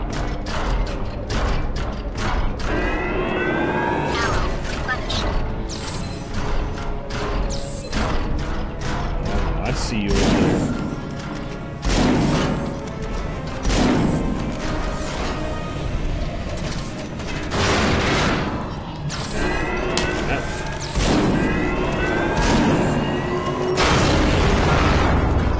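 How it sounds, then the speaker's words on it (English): Repeated heavy cannon blasts in the Front Mission Evolved mech video game, sharp booming shots at an irregular pace over constant mechanical clanking and whirring, with occasional talking. "This thing's a freaking cannon"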